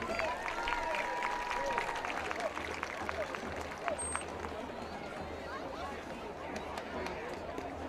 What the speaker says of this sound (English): let's give a round of applause for our cheerleading seniors